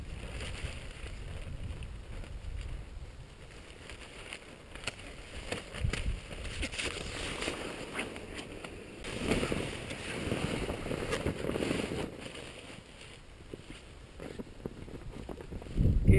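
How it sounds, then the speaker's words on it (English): Wind buffets a microphone outdoors during work on an Alpacka packraft inflation bag, a constant rumbling roar with gusts that swell and fade over the whole stretch. "Got lots of wind here."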